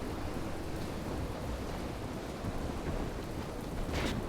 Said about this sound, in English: Oh, lightning. Actual lightning storms.